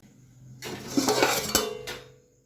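A metal lid is set onto a pot of gooseberry (nellikkai) pickle. It makes a short, close clatter and clink of metal on metal lasting about a second and a half, with no talk.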